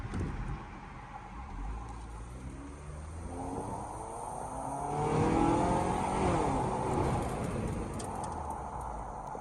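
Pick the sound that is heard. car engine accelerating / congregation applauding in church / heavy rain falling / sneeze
car engine accelerating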